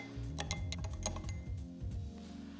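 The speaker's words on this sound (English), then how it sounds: "I'm gonna give this a little stir because I want that sugar cube to melt." A spoon stirs a sugar cube in a cocktail glass for a Grand Marnier drink, ringing against the glass in a quick, rhythmic run of close, bright clinks.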